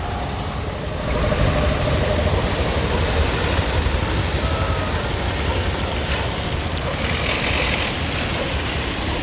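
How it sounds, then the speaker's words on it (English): A car engine grows louder after a second and holds a steady mid-pitched rumble, then fades slightly, suggesting a vehicle rolling past nearby. "car here, two cars here."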